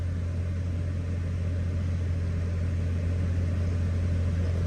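A car engine idles at a steady RPM with a constant low rumble and hum, unchanging and close, while an AC system with a cycling condenser fan and an engaged compressor clutch runs alongside; no one speaks.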